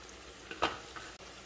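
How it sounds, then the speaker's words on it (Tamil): Ginger garlic paste dropped into hot oil in a kadai for devilled shrimp, giving a quiet, steady sizzle with a louder burst of frying partway through and a few soft stirring scrapes. "எண்ணெய் சூட வரிட்டு இஞ்சி பூண்டு உழுதை போடுவோம்"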